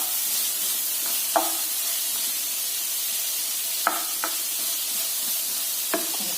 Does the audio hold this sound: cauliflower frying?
yes